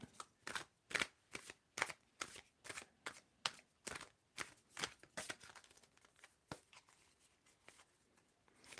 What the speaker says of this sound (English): tell me when to stop shuffling